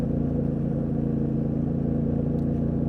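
Steady, continuous engine drone from a Yamaha Tenere 700 motorcycle on a street, a loud mid-low hum holding constant throughout with no voices.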